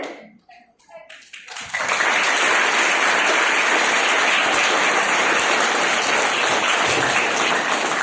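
An audience bursts into loud, sustained clapping that swells within the first two seconds and fills the rest of the clip with dense, even applause. A faint voice can be heard before it starts.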